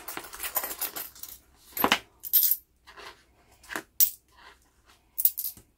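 Coins handled and set aside while sorting a budget envelope, a few separate metallic clinks and small drops spread across several seconds, close and fairly quiet, with no talking.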